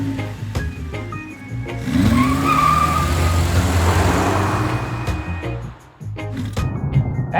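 A 2023 Nissan Z sports car is driven hard, its engine revving up and down with a squeal rising in the middle and a brief drop before the engine note returns.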